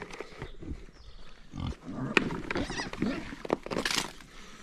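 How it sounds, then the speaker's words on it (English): Pigs grunting and snuffling close by as they are offered carrot treats on a farm, short grunts and oinks coming in uneven bursts alongside rustling, with a person talking intermittently. "For these piggies, I've got some carrots."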